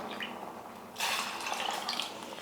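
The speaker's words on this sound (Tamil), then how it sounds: "2 கப் அளவுக்கு தண்ணி சேர்த்துக்கிறேன்." Water poured onto jaggery for a Tamil sweet, about two cups, starting as a sudden close splashing pour after a quiet second and running steadily to the end.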